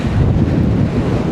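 Strong wind hitting a rocky Jamaican coastline at mid tide, a loud, heavy rumble of gusts battering the microphone, blended with breaking surf and continuous for a brief stretch.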